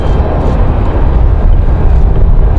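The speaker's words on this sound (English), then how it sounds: "JetBlue coming from Orlando in this beautiful new livery, the orange wingtipped livery" A JetBlue airliner in the new orange-wingtip livery arrives from Orlando at Raleigh-Durham airport, making a heavy, continuous low rumble that swells slightly toward the end.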